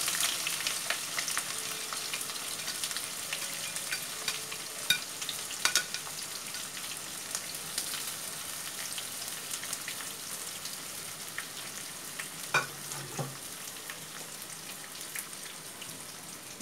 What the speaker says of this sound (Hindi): यहाँ चार चम्मच ऑयल जो है वो गर्म हो रहा है, इसमें मैं ये प्याज डाल देती हूँ।